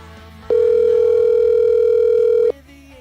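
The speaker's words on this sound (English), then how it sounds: "It's ringing." A telephone line rings during a live radio call-in show, one loud steady electronic tone lasting about two seconds before cutting off abruptly.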